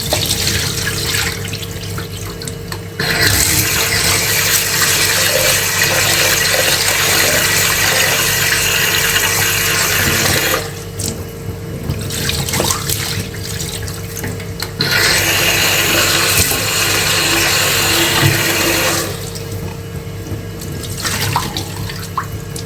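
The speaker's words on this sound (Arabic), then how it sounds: "تعالوا حبايبي نغسل الرز" Tap water running hard into a sink while rice is washed for a home-cooked meal, a loud steady gush broken by short pauses where the flow stops or is blocked.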